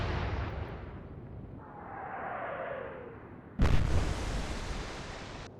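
Royal Navy warship guns firing in the naval game Atlantic Fleet: a rumbling sea-battle background with a rising whoosh, then one sudden loud boom of a salvo that rings on afterward.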